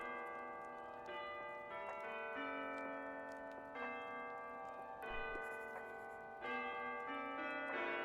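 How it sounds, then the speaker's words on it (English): Soft, distant bells ring out at New Year in the video game Tiny Book Shop, with layered, sustained chiming tones that overlap and shift gently over several seconds, and no voices. "The soft sounds of the distant bells"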